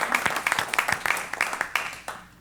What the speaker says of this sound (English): I do think we owe her a little round of applause